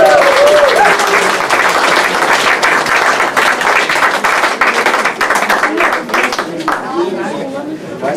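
Sustained applause from an audience at a pearkekeatsen (Frisian handball) event in Tytsjerk, dense clapping across the whole stretch, loud and close, with a voice briefly audible at the start.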